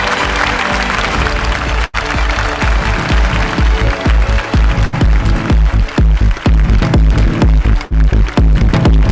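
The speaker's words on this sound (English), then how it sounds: "I think he deserves a big, big round of applause." Applause at a corporate awards ceremony greets the winner of best CFO in retail, broken by a brief dropout near two seconds. Music with a steady thumping beat plays loudly over it for the full length.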